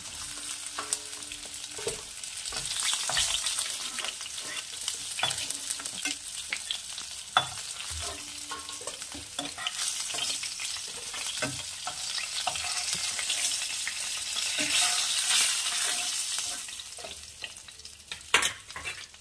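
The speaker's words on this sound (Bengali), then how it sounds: "এখানে মাছগুলো ভাজা হয়ে গেছে" Fish fries in oil with a continuous loud sizzle, punctuated by spatula scrapes and stirring clatter throughout.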